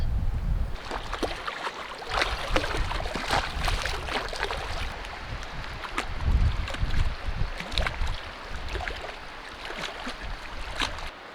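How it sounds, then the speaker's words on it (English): Steady wind gusting outside a tent at a riverside campsite in Wabakimi Provincial Park on the Allanwater River, a continuous rough rushing roar with rattling flaps and buffeting, close and fairly loud with no voices. "It's pretty windy out there and it keeps spitting rain"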